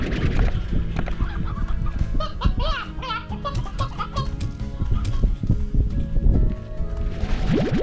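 Chickens cluck in the Slime Rancher video game, a busy run of overlapping clucks and squawks that continues throughout at moderate loudness over a steady background.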